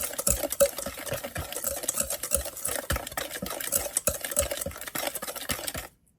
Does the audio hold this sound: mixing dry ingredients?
yes